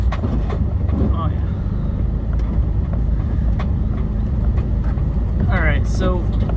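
Steady road rumble and engine hum from inside a car on the way to work, constant and moderately loud, with a person talking over it.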